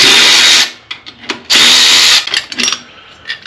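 A power drill runs in two loud bursts as bolts are driven on an old go-kart being revived after long storage, each burst roughly half a second to a second long, with scattered clanks and handling noises between.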